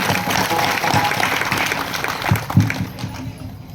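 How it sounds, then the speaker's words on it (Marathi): An audience at a Balaji temple kirtan event in Latur claps and cheers for the temple committee members, a short burst of applause from a crowd close by. "यांच्यासाठी जोरदार एकदा टाळ्या झाल्या पाहिजे"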